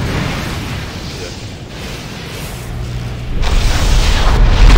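An explosion from a bomb in a team battle video game booms in a short, heavy burst that thickens toward the end, with game noise rumbling throughout.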